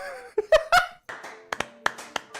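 A few scattered, hesitant claps ring out unevenly, mixed with brief vocal sounds like a snicker, close by and sparse rather than steady applause.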